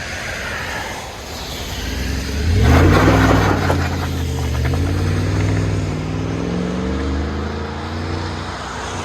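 A 2017 Chevy Silverado 6.2L V8 with a Borla ATAK exhaust revs up sharply with a deep, throaty sound, then settles into a loud rumbling idle with a burbling exhaust note.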